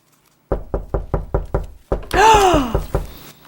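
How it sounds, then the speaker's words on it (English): Seven sharp, evenly spaced knocks on a door sound close and loud, followed by a short pause and a few more knocks. A voice calls out over the last of them. "let's go see who's at the door."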